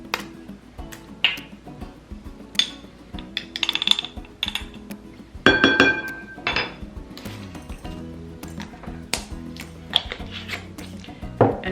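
Metal measuring spoon clinking repeatedly against a jar and bowl while ground ginger is added during breakfast freezer-meal prep, a series of sharp, close, bright taps and scrapes in an irregular rhythm, with no voice.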